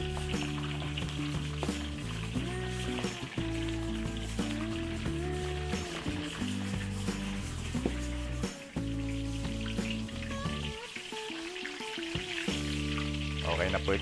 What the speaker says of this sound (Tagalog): Prito po tayo dito ng ating pinrepare na embutido.